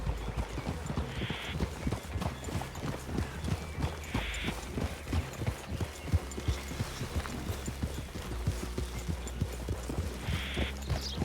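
Steady clip-clop of horse hooves walking on hard ground in a video game, continuous and moderately close, with a low hum in the background.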